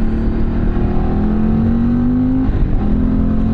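A Cagiva Elefant 750 motorcycle engine pulls hard under acceleration, its loud, close drone rising steadily in pitch before a gear change, then carrying on alone with no voices.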